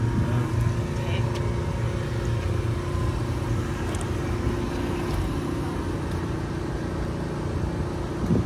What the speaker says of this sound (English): That's the exhaust from the generator.